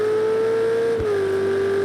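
A race car engine in Project Cars 2 holds a steady, loud high drone under acceleration, pitch dipping briefly as a gear changes near the middle before settling again, heard alone without talk.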